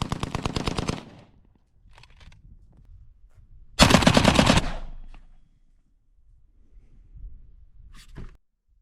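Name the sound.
Russian AK-74 semiautomatic rifle shots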